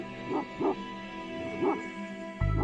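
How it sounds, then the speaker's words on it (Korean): A Mongolian Bankhar dog gives a few sharp warning barks and yips in quick pairs, moderately near, ending with a sudden loud burst. "수상한 움직임을 느끼면 큰 소리로 짖어 경계한다."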